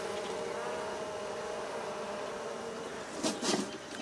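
Honeybees swarm around a huge honeycomb during a hive rescue, a steady dense buzz filling the air throughout, with a couple of louder rustling bursts near the end.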